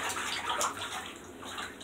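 Water pours steadily into a bathtub while a plush toy is washed, a continuous close splashing rush with small gurgles and no break.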